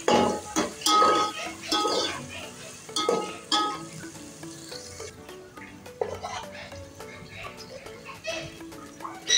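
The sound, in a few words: stir-frying peas with vegetables in pan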